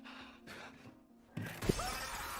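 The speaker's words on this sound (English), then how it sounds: "One panel will hold, one will shatter." A glass panel shatters on the Squid Game glass bridge, a sudden sharp crash after a quieter opening, followed by a bright ringing tail of breaking glass.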